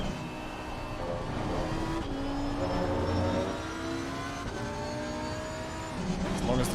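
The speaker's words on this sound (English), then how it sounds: "listen to the sound of this Lambo" Lamborghini Huracán ST Evo II engine in the Assetto Corsa racing simulator, a droning, rising and falling whine as the car revs through gears, with someone talking over it.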